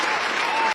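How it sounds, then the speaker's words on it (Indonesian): Brief burst of classroom applause for a student group after their presentation, steady clapping from the room that cuts off abruptly after under a second. "Beri aplaus kepada kelompok 3"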